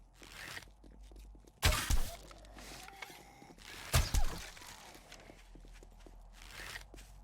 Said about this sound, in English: I hear other footsteps